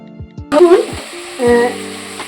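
Cauliflower pieces being stir-fried in a pan for cauliflower singara, with a burst of hot-oil sizzle and scraping stirs at the start and again near the end, close and fairly loud.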